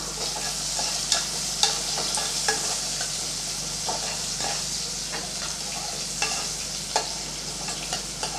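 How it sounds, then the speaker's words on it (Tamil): Finely chopped large onion sizzles and fries steadily in a pan while a spoon scrapes and stirs it now and then, a constant close hiss with small clicks, no voices. "ஒரு பெரிய வெங்காயம் பொடியாக கட் பண்ணி வச்சுருக்கேன் அதையும் சேர்த்துக்கலாம் நல்லா வதக்கி விட்டுடலாம்"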